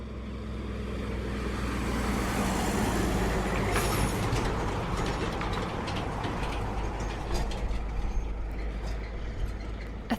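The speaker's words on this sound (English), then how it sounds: "A 3-carriage road train just passed us, and now another one's coming back in the other direction that has 4 carriages." Heavy road train trucks with three and four trailers pass on an outback road, a loud continuous low rumble and roar of engines and tyres that stays strong throughout, with some rattling noise rising toward the end.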